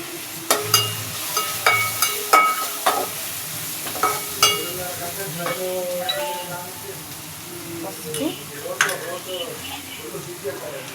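Spices with turmeric fry in a pan under a steady sizzle, broken by repeated scraping stir strokes. A voice talks intermittently over the cooking.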